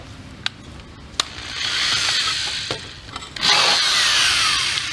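A power drill with a 1/8 inch bit whirs steadily for a few seconds drilling mounting holes, pauses briefly, then bites in again with a louder grinding buzz, preceded by a few sharp clicks.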